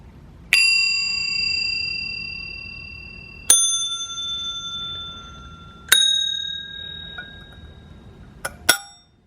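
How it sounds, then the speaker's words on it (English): Victorian antique brass counter bells struck one at a time, four clear ringing dings spaced a few seconds apart, each decaying slowly, then a quick final double tap, close and bright in a quiet room with no speech. "I'll ring them all one last time, just to let you hear them again."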